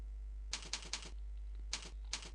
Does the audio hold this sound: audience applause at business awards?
no